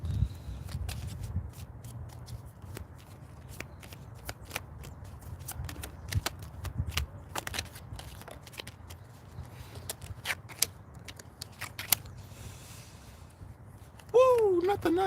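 Tarot cards shuffled outdoors in chilly weather by bare hands, a run of soft, quick riffling clicks spread over several seconds, fairly close and quiet, with a voice starting up near the end.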